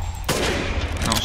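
A gunshot blast from a weapon in the video game Resident Evil Village, a sharp broadband onset followed by a dense, sustained roar of gunfire and reverberant noise filling the rest of the short moment.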